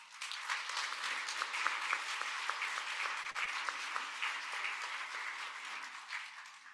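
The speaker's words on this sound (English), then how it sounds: "Can we quickly give them a round of applause?" A church congregation gives a sustained round of applause during a Sunday morning worship service, with many hands clapping in a steady, dense wash that swells slightly and then fades near the end.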